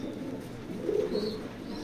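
A racing pigeon gives a soft, low coo at close range, a brief murmur over quiet background hiss.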